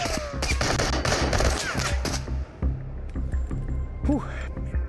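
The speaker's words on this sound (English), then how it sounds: "It's not every day you have a firefight here" A firefight in the VR game Into the Radius, with rapid bursts of close gunfire followed by sparser single shots and scattered game sounds, loud and near.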